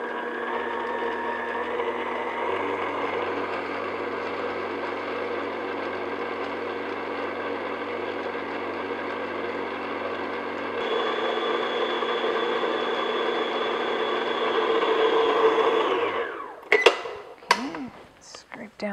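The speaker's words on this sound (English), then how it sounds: "I'm just going to beat this until it's light and fluffy" An electric mixer beats confectioners' sugar for a banana cake frosting, a steady close motor whir that shifts pitch partway through, then stops with a few clattering knocks.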